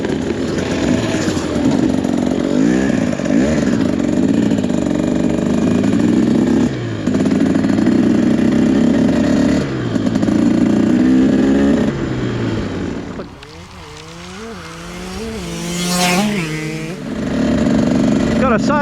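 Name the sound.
2024 TE300 dirt bike engine warming up and revving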